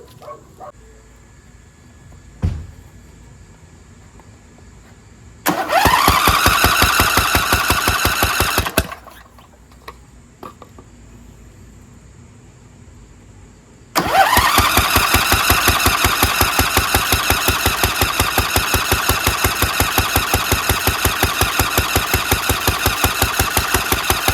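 A choked Craftsman DLT2000 lawn tractor engine cranks without catching: a short burst of rapid, rhythmic starter churning, a pause, then a long, steady cranking run up close.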